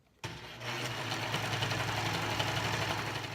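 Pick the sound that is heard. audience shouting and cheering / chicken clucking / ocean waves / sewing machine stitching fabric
sewing machine stitching fabric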